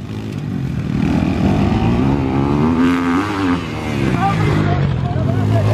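Motocross motorcycle and quad bike accelerating hard in a race, loud engines climbing in pitch and revving up close, with shouting voices and crowd noise over them.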